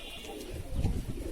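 Pigeon giving a short, soft coo at a domestic rooftop, faint and brief, with low throaty pulses in a quiet setting.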